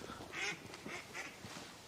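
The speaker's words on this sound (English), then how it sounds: "Ducks." Several ducks quack in a ragged, repeated series outdoors after dark, faint and somewhat distant, with no one speaking.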